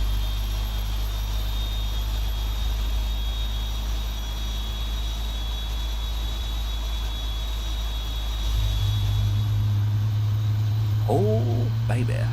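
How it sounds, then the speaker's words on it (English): Jet engines of a Saudia Boeing 777-300ER in a flight simulator game hold a steady, loud drone that swells and deepens about two-thirds through, with a brief voice-like sound near the end. "let's hear the engine rolling, rolling, rolling."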